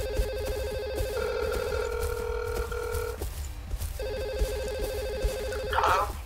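A phone rings over speakerphone in repeated electronic tone bursts with a short gap between rings, steady and fairly loud over background game noise.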